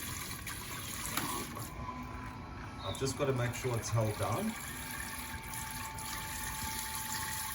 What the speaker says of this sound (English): And there we have the shower.